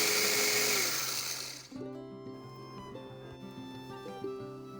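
An electric blender grinding spices for idli and dosa podi roars loudly for under two seconds, then winds down and stops, leaving faint clinks and a soft hum.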